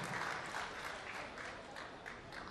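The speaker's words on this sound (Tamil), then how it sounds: "உங்களுடைய பலத்தை ஒரு கைத்தட்டலை கொடுங்க அவருக்கு." Faint audience applause at a members' meeting: a steady wash of clapping throughout, distant and soft.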